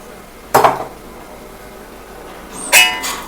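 A spoon knocks sharply twice against a bowl while homemade hair dye is mixed with warm tea decoction, leaving quiet stretches between the two clear clinks.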